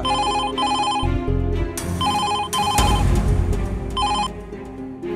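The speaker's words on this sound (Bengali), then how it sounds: "এই ফোনটা বাজছে, ধরো ধরো ফোনটা ধরো" An indoor telephone rings in repeated electronic bursts over background music, loud and steady throughout with no speech.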